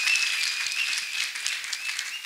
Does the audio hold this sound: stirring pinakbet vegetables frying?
no